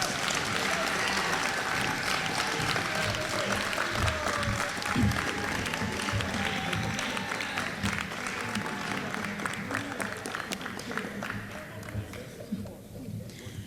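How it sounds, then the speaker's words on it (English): Audience applause fills an awards ceremony for junior high students, a dense sustained clapping from a large crowd that tapers off toward the end, with some voices faintly beneath it. "Let's go ahead and give these guys a round of applause."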